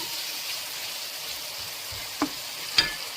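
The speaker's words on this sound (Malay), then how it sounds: "We stir fry until the tomato and the onion will soft a bit." Onion and tomato stir-fry in a pan as the base for spicy mutton. A faint, even sizzle runs throughout, with two quick spatula knocks near the end and no talking.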